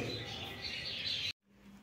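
African lovebirds in a breeding colony chirp in a dense, steady chorus of high twittering that runs continuously, then cuts off abruptly near the end, leaving a quiet low hum.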